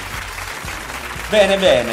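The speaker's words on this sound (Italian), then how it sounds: "Mettiamo un applauso per il nostro amico Stefan." Applause sound effect dropped into an Italian radio talk show, a steady wash of clapping that runs under the presenter's voice before a brief musical sting cuts in at the end.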